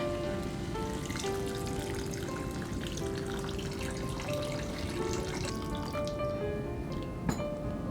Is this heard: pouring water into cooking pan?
yes